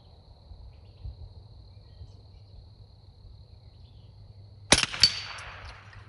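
A single MC58 rifle shot on an outdoor shooting range, one sharp loud crack with a ringing echo tail, following several seconds of quiet background with a steady insect drone.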